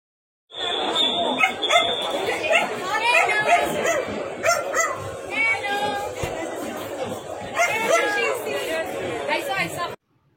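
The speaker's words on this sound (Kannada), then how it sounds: "ಈಗ ನೀವು ನೋಡ್ತಾ ಇರೋಂಥದ್ದು ರಾಟ್ ವೀಲರ್ ಡಾಗ್ಗಳು" Rottweilers waiting at a KCI dog show in Bengaluru bark, yip and whimper nearly nonstop, mixed with loud crowd chatter and talking for about ten seconds.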